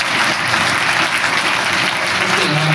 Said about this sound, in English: a huge round of applause from the audience